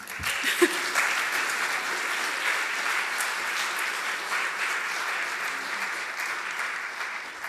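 A church congregation applauds steadily throughout a congregational meeting at Hillhurst United Church, a dense, even wash of many hands clapping at once with no pause.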